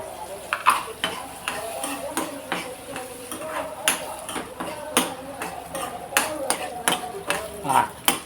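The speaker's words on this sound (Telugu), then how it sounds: "ఇందులో ఈ కాసిన్ని కరివేపాకు రెమ్మలు కూడా ఇప్పుడు వేస్తున్నానండి" Curry leaf sprigs crackle and sizzle as they drop into hot tempering oil for a yam and spinach mustard curry, with a steady frying hiss, sharp spits and utensil taps under a voice talking.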